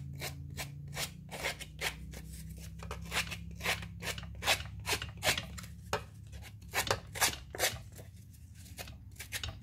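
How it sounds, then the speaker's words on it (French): Scissors scrape and distress paper for a vintage tag, a steady run of rapid, close rasping strokes that continues throughout without talk. "je vais venir l'abîmer avec les ciseaux"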